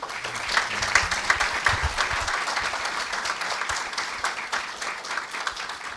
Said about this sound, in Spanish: un fuerte aplauso para el señor decano.